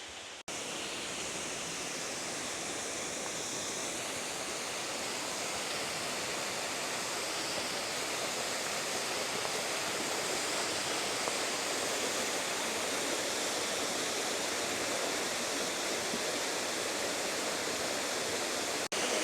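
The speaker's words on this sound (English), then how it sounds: "Just came across this gem of a waterfall." A small fell waterfall on a Lake District ridge walk pours in a steady, dense broadband rush, even and unbroken, fairly close and moderately loud, with no voices over it.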